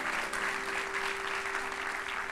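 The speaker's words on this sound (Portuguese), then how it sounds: "aplauda Jesus" Audience clapping in a church congregation, a steady wash of applause filling the space throughout, with a low sustained tone humming beneath it.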